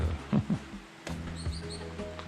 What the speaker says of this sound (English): There's a bird chasing me